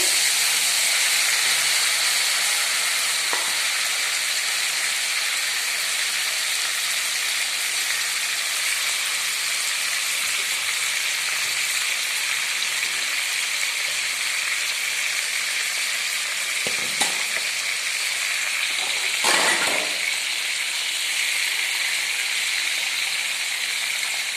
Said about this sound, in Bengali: বেগুন আর আলু দিয়ে জলটা একটু ছিল, হলুদ মাখা জল, ওটাকে আমি এর সঙ্গে দিয়ে দিলাম। দিয়ে একটু নাড়িয়ে